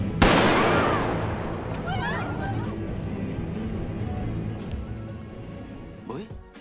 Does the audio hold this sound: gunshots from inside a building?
yes